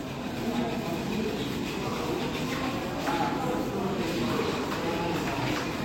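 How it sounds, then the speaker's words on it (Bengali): Old Kolkata underground metro train in motion, a steady loud rumble and rattle of the carriage running continuously throughout, with faint voices mixed into the din. "চলো, এটা আমরা পুরনো মেট্রোতে ঢুকে গেলাম"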